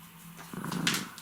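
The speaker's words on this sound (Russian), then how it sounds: "ты на меня рычал." A dog growls briefly in a low rumble, close and faint, rising for about half a second with a soft breathy edge.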